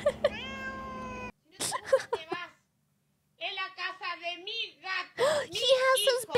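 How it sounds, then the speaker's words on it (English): A cat meows in several drawn-out, tonal cries separated by pauses, with people talking and reacting around and over the sounds. "Meow. Meow."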